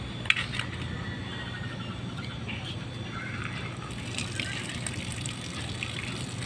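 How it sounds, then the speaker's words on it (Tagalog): Water is poured into a pot of crushed ginger as a soft, steady gush and trickle, faint and continuous with occasional light clinks. "Natin siya lagyan ngayon ng tubig."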